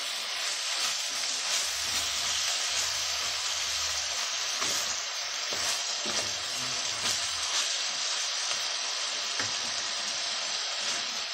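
Chopped tomato sizzling loudly in a hot pan while being stirred, a continuous bright crackle with scraping strokes and a few sharper spatters, close up and with no voices.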